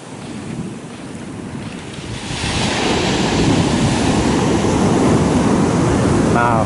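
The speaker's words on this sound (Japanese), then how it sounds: "いや、でも波高いね。" High ocean waves break on an empty beach near Dawei, Myanmar, giving a loud, continuous roaring surf that swells noticeably partway through and stays heavy, mixed with wind rush.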